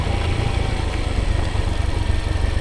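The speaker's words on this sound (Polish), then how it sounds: "mam motocykl dostosowany do takich warunków drogowych" A motorcycle equipped for rough roads runs with a steady, loud engine drone on an unpaved rural road in the Philippines, the motor humming continuously up close with no talking.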